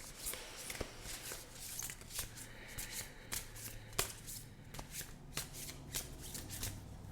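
Oracle cards being shuffled by hand for several seconds, a steady rustle and riffle with sharp card snaps, close and alone without talk.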